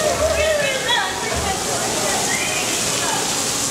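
Fountains at a kids' water park with a Finding Nemo reef theme spray and splash steadily, a continuous watery hiss with sloshing, while voices talk nearby throughout.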